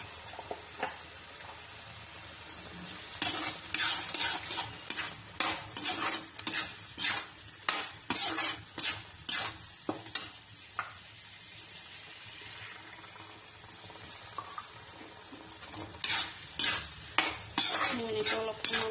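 Spices with cumin powder fry quietly in a pan, broken by a run of rhythmic scraping stirs and a second cluster of stirring strokes near the end, fairly close.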